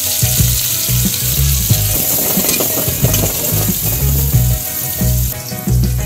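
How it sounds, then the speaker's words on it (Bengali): Onions and bay leaves frying in oil with cumin, garam masala, ginger and garlic pastes for a beef dish, a loud, close and continuous sizzle with bubbling crackles and occasional clinks. "পেঁয়াজটা ভালো মতো ভেজে নেই।"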